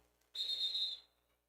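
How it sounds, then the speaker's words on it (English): A referee's whistle at a Wasatch Midnight Terror versus Northern Arizona basketball game sounds one sharp, steady blast of under a second, calling an official timeout. "The dreaded 4 whistles again"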